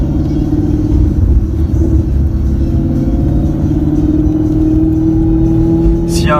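Maserati GranTurismo S with its Ferrari-built 4.7-litre V8 rumbles steadily and loudly, a deep continuous engine drone with rising harmonic whine, close and constant throughout, briefly overlapped by a sharp squeak near the end.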